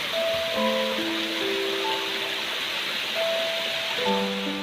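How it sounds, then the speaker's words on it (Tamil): A waterfall in Sri Lanka fills the scene with a constant, broad, even roar, overlaid by faint sustained musical notes. "இந்த அருவியோட சத்தம் இந்த இடத்துல நமக்கு இன்னும் இன்னும் புத்துணர்ச்சியை கொடுக்குது"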